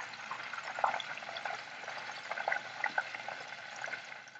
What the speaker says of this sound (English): They're really starting to fry.